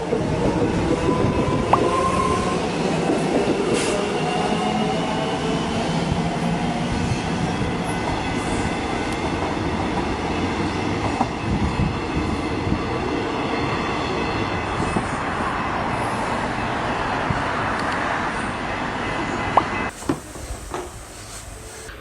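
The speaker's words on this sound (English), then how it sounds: "Flinders Street service departing." A Flinders Street train service departing at Keon Park, with a steady rumble and rattle of rail cars rolling past close by for about twenty seconds, then a sudden cut to quieter ambience.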